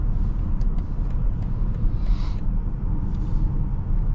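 Steady low road rumble and engine drone from a 2024 BMW X5 M60i merging onto a highway, continuous and even, with faint passing-traffic swells and no voices.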